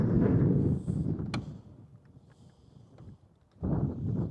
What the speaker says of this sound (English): I am so tired of this wind